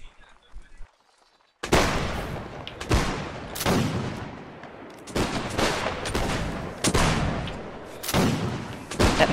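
Volleys of rifle fire crack out from massed infantry lines in a Napoleonic-style strategy battle game, repeated loud bursts after a near-silent opening, with rolling echoes between salvos.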